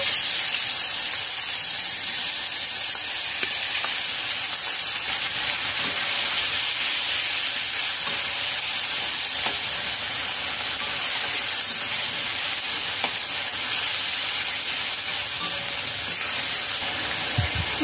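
Onion paste fries in a pan with whole garam masala and cumin seeds, giving a steady, even sizzling hiss that runs unbroken at moderate loudness.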